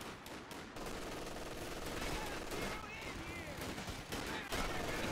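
Rapid machine gun fire rattles in Company of Heroes 2 wartime combat, bursts of crackling shots running continuously at moderate level beneath a voice talking over them.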